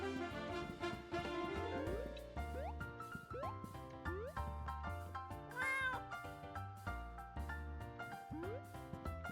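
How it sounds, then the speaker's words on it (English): Cheshire Cat from the game Escape from Ever After meowing over a busy, loud musical backdrop, with several drawn-out, rising cat calls woven through the steady tune. "that is Cheshire Cat out there"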